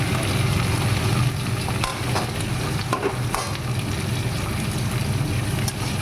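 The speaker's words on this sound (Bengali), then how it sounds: "এই দেখুন একটু একটু করে আমি নাড়াচাড়া করছি, একে একে আনাজটা আমি ছাড়বো" Vegetables and papaya pieces stirred while frying in a pan, a steady close sizzle with scraping spatula strokes running throughout.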